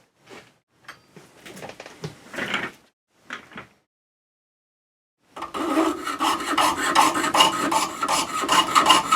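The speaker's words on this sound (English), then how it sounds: "I'll first simply begin making cuts about halfway, and then I'll turn it around and make the rest of the cuts" A hand saw rasps into a silver ingot held in a vise, first in short scattered bursts separated by a pause, then in a continuous fast rhythmic run of close, bright strokes.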